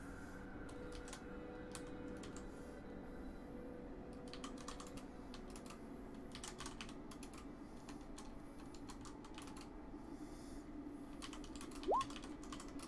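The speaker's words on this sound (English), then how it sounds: "I heard typing and I was like, yeah, he's doing it." Fast, faint bursts of computer keyboard typing come in irregular clusters over a quiet room hum.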